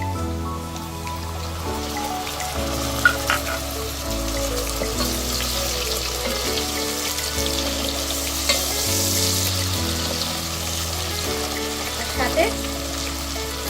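Chopped tomato dropped into hot oil in a pan for pabda fish curry, giving a steady loud frying hiss with some stirring scrapes and a few louder knocks, while music plays underneath throughout.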